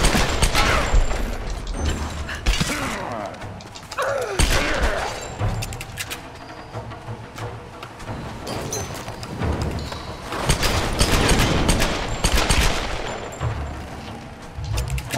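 Gunfire rattles in Tomb Raider during a fight against a sword-wielding enemy, with loud rapid bursts and heavy thuds that come in clusters and keep going without pause.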